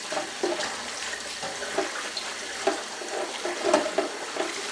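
Cauliflower pieces are rinsed under a running kitchen tap, water splashing unevenly over them with soft pattering bursts and handling noises, close and moderately loud.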